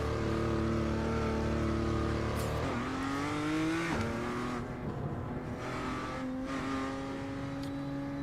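A BMW M2 race car driving on the Lédenon track, its engine droning steadily from inside the cabin, with pitch dropping and climbing through gear changes and braking, loud and continuous.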